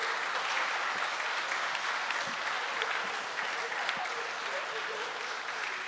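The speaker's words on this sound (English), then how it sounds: "big round of applause" Audience applause after a medical conference debate session, a continuous even wash of many hands clapping at moderate level throughout, with faint voices underneath.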